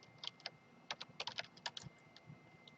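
Keys clicking on a computer keyboard while entering a Microsoft Access database query, a quiet, irregular run of close taps with short pauses and no voices.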